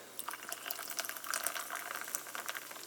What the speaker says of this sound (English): carbonated water of blueberry pomegranate from this can into this mug